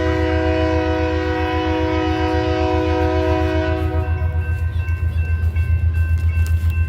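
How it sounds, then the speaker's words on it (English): A Union Pacific freight train sounds a long, loud multi-tone horn salute nearby, then the horn cuts off while the heavy rumble and rhythmic wheel clatter of the passing cars continue. "The engineer of this train also gave us a little horn salute."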